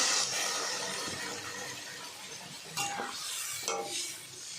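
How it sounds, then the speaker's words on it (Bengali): Water poured into a pan of sautéed spice paste and potatoes for a potol-alu katla fish curry, causing short hissing bursts and light utensil clatter over a soft background sizzle. "কষা হয়ে গেছে, এবার জল দিয়ে দেবো।"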